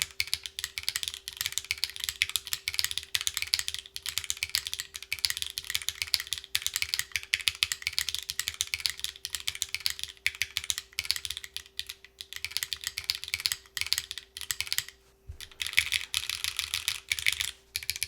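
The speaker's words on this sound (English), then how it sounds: "I'm going to type a bunch of random gibberish" Continuous rapid typing on a split ergonomic mechanical keyboard, crisp clacky keystrokes in a dense steady stream, close and fairly loud.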